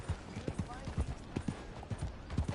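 Rhythmic clip-clop of horse hooves at a trot in the video game Red Dead Redemption 2, steady and fairly close, with faint background sounds.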